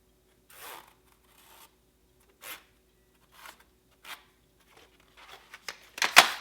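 Pencil drawing along a locked profile gauge's outline on a sheet of paper: scattered short scratchy strokes, sparse at first, then quicker and louder bursts of rubbing near the end, close and with no talk.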